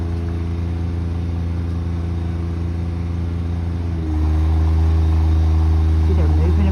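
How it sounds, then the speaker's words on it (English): A bucket truck's diesel engine runs steadily while its boom lifts a tree worker, a low droning idle that deepens and grows slightly louder partway through as the hydraulics engage, with faint outdoor background. "It's called a bucket truck."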